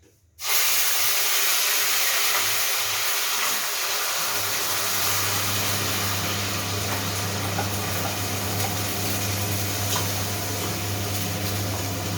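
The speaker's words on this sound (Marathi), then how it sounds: "जिरे आता तडतडले तर त्याच्यामध्ये आपण ही अद्रक लसूण कांदा याची पेस्ट" Ginger, garlic and onion paste hitting very hot oil with cumin in a pan, bursting into a loud, steady hiss after a brief quiet start and sizzling continuously with a low hum beneath.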